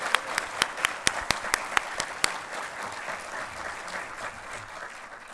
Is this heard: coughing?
no